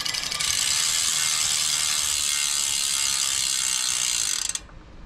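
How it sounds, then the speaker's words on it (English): A spun road or MTB bicycle wheel with a disc brake, its freewheel ticking in a rapid, even ratchet close by for several seconds before cutting off sharply. "I spin the wheel"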